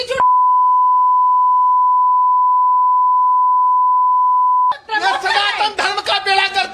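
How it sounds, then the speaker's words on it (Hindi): A loud, steady censorship bleep tone held for several seconds to mask a swear word, cutting off abruptly as a voice resumes talking in Hindi. "जो बीप किया हुआ है ना वो गाली है।"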